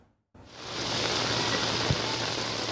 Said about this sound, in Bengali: ভারী বৃষ্টিতে ডুবে আছে কক্সবাজার, চারদিকে শুধু পানি আর পানি।